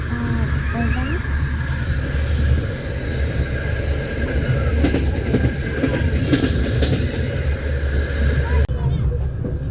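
A passenger train rolls along steadily, its wheels beating a loud, continuous clickety-clack over a deep rumble as the carriages sway, filling the whole stretch from start to finish.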